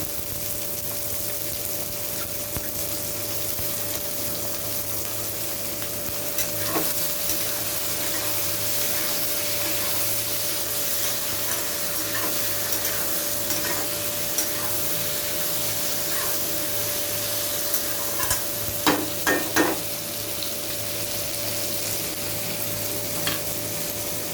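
Capsicum pieces frying and being stirred in a pan for soyabean chilli, a steady close sizzle throughout with occasional scraping clinks of the spatula, no talk.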